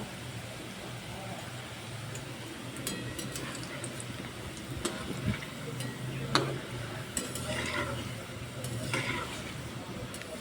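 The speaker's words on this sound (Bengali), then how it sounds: "সমস্ত গোলাপ জামুনগুলো আমি দিয়ে দিয়েছি তেলের মধ্যে এবার গ্যাসের আঁচটা লো করে দেব" Bread-based gulab jamun balls fry in hot oil over a low gas flame, giving a steady dense sizzle with occasional clinks and stirring scrapes throughout.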